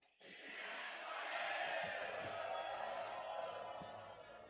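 A large crowd at a Boeing Composites Malaysia 25th anniversary celebration shouts a rousing chant, a swelling roar of many voices that holds steady and then fades slightly.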